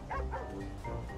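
A dog barks in a video game, an ownerless dog left barking all day; several fairly close barks in a steady run, with no talk over them.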